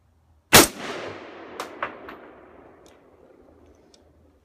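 A single sharp AK-47 rifle shot rings out loud and close, followed by a long rolling echo with a few fainter reports trailing off across an outdoor range.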